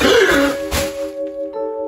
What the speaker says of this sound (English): he heard a small sound, like the cough of a beetle